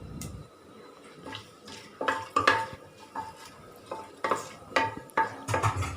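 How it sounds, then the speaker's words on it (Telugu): Whole biryani spices fry in hot oil in a pressure cooker while a metal spoon stirs and clinks against the pot, giving a close run of irregular scrapes over a soft sizzle. "ఇవన్నీ మనము ఆయిల్లో ఫ్రై చేసుకోవాలి."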